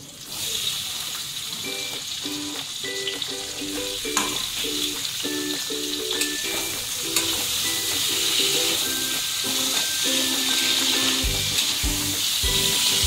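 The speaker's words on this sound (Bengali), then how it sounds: "পটলটা ভেজে নেব।" Pointed gourd (potol) frying in oil in a pan for a fish curry, a steady close sizzle and hiss throughout with brief stirring scrapes and faint tonal hum in the background.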